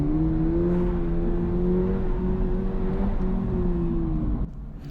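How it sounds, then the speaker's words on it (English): A car at an autocross event drones steadily at close range, the engine note rising and falling gently as the throttle is pressed and released, then dropping off abruptly near the end. "You can hear I'm really timid on the throttle and I keep hitting it and then letting off and hitting it and letting off."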